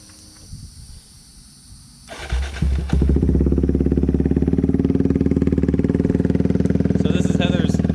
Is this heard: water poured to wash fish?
no